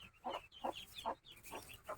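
A hen on a farm that raises ducks clucks softly in a steady rhythm, about five short low calls in two seconds, close but quiet, with newly hatched chicks nearby and no voices.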